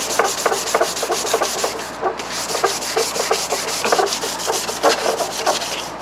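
Plastic fender flares on a Toyota Tundra are scuffed by hand before bedliner spraying, giving close, rapid, rhythmic rasping strokes that repeat steadily with a brief pause in between.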